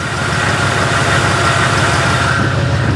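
A newly installed engine idles steadily in a 1973 C60 dump truck, a loud, close, continuous rumble with an even low throb and no voices.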